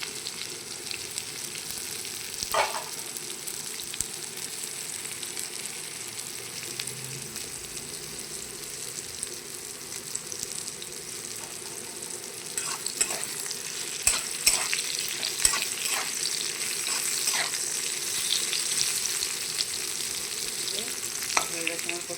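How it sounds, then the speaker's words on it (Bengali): Pointed gourd (potol) fries in a pan with a steady, even sizzle that runs throughout, broken by occasional scraping stir strokes and light clinks. "হয়ে গেছে আমার পটল ভাজাটা"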